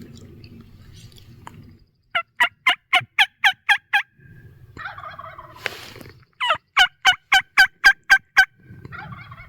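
Merriam's wild turkey gobbling on public land during Colorado's spring season: two loud, rapid gobble bursts of about eight pulses each, separated by a pause with fainter calls, over quiet outdoor background.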